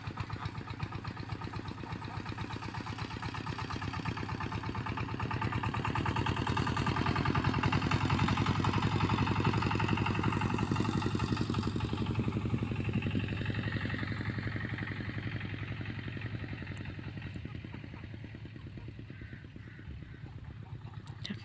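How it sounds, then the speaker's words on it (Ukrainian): A small tractor engine chugs steadily at a moderate distance on a farm, its rhythmic putter swelling louder in the middle then easing off, with no talk. "Зараз під'їде і завеземо тракторцем."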